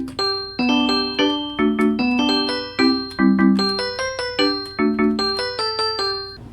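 Minecraft note blocks play the first four measures of a song's chorus, a quick run of bright plucked bell-like tones in a bouncy rhythm, clear and alone.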